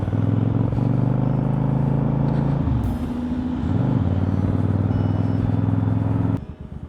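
A motorcycle ridden through town traffic, its engine giving a loud steady drone close by that briefly dips and rises as it changes speed, then cuts off abruptly near the end.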